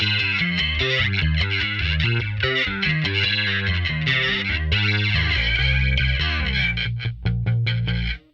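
Electric guitar through the HX Stomp's Boss Dimension C chorus clone, switches 1, 3 and 4 on at 100% mix, with a thick, shimmering chorus, playing sustained chords and riffs continuously at steady volume, no voices.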